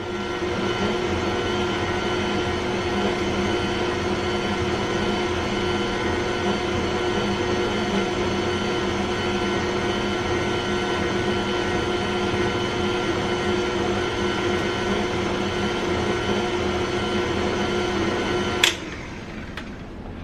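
An electric mixer runs in apple cinnamon pancake batter: a loud, steady motor whine with even humming overtones that holds for about eighteen seconds, then a sharp click as it stops and a softer hum remains.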